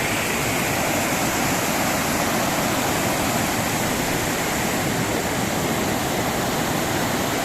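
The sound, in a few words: water flowing down streams at Vadattupara waterfalls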